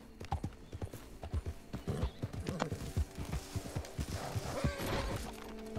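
In Red Dead Redemption, a horse gallops with steady, rapid clip-clop hoofbeats and lets out a neigh, all close and loud with no talking.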